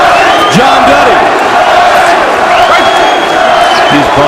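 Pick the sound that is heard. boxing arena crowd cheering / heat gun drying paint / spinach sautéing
boxing arena crowd cheering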